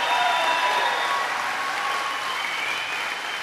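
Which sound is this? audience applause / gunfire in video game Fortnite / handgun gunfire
audience applause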